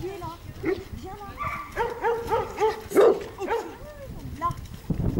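Several close barks from a dog come in quick succession, tangled with a woman's speech.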